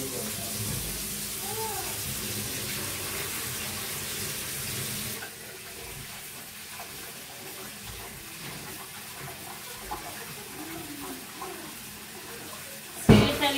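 Water running steadily from a tap while hands are washed, a constant gush that is louder at first and then quieter, with occasional knocks and a clatter near the end.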